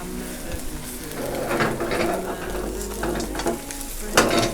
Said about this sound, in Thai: เราก็ทอดไข่ก่อนเพื่อความสวยความน่ารับประทาน